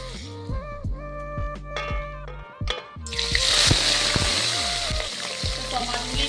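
Rohu fish dropped into hot mustard oil bursts into a loud, close sizzle partway through and keeps frying steadily, with background music playing throughout.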